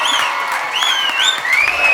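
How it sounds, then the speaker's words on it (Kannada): A studio audience at a televised reality-show cine battle round breaks into loud continuous applause, with shrill whistle-like cheers rising and gliding above the clapping crowd. "ಫಸ್ಟು ನಾವು ನಮ್ಮ ದರ್ಶನ್ ಸರ್ಗೆ ಒಂದು ಜೋರಾದ ಚಪ್ಪಾಳೆ ಹೊಡಿಬೇಕು."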